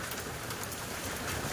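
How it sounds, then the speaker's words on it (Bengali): Rain during a storm falls in a dense, unbroken wash of drops, a loud and even roar that fills the whole short stretch with no other sound standing out. "বৃষ্টি বাড়ছিল, ঝড়ও বেড়ে গেছে।"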